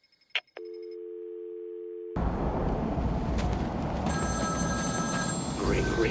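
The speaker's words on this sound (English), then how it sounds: "Ring, ring, ring. Find my phone, Batman." A telephone rings in Batman Arkham City, a short electronic trill that drops into a steady held tone, then gives way to a loud, dense rush of background noise for the rest.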